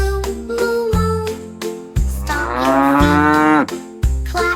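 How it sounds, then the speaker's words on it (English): A loud, drawn-out cow moo sits inside a bouncy children's nursery rhyme about farm animals, backed by music and repeated steady beats. "Baby cow, moo, moo, moo."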